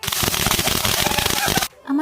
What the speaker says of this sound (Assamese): সকলো অহাৰ পিছত ফটকা ফুলজাৰি এইবিলাকেৰে অলপমান